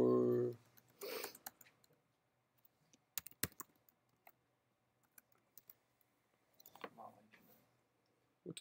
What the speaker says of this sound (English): It's because I'm not done typing this yet.